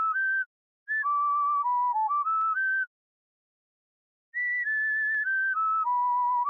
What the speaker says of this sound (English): Musical type whistling.